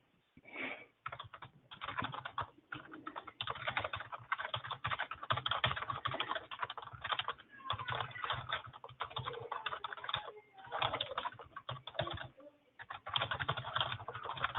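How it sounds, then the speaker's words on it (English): Computer keyboard typing during an online stakeholder meeting: steady quick clatter of keys, fairly close and moderately loud, a few short pauses between runs, with no talk over it. "Just bear with me while I type that in."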